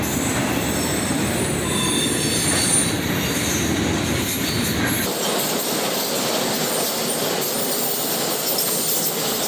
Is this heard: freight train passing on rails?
yes